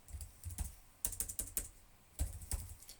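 Code is typed on a computer keyboard for a Raspberry Pi project, heard as quiet, close key clicks in short bursts of rapid taps with brief pauses between them.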